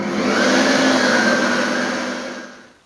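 An electric hand mixer creaming sugar and butter for a lemon sponge cake, a loud steady whirring motor drone held for a couple of seconds before tapering off as it slows, with no talking.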